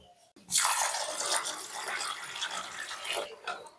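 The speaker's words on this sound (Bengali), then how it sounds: "এই মুগ ডাল আর মুসুর ডালটা ভালো করে ধুয়ে নেব" Mung and masoor lentils being washed in water for khichuri: a steady broadband rush of running, splashing water begins after a brief quiet start and carries on evenly for about three seconds before cutting off.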